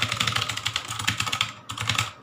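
A Cosmic Byte CB-GK16 Firefly mechanical RGB keyboard is typed on rapidly, with crisp, clacky keystrokes in quick bursts and a brief pause, heard close up.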